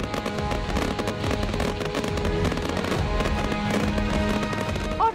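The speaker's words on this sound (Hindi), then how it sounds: "आसमान में रंगों की आतिशबाजी," Fireworks crackle and pop continuously, dense bursts of colour over a Holi celebration in Bihar, layered over one another in a loud, sustained barrage.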